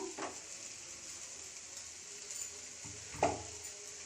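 Boiled egg noodles stirred and fried in a spiced pan, giving a faint, steady sizzle with a soft scrape or clatter of the utensil near the end.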